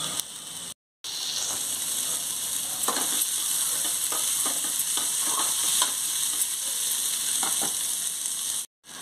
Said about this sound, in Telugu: ఇది కూడా బాగా వేపుకోవాలండి